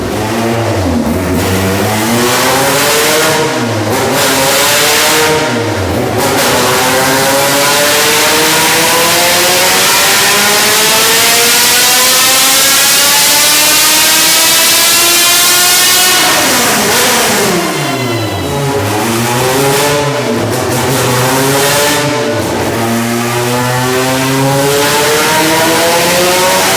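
A race car engine, a nitrous K-series in an EG Civic, revs hard on a dyno, climbing in long sweeps to high rpm, dropping back, then repeating, loud and close.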